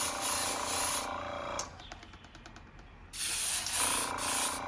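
An airbrush sprays light coats of clear coat onto a model car's hood and body, a close, soft steady hiss in two bursts separated by a quieter pause with faint clicks.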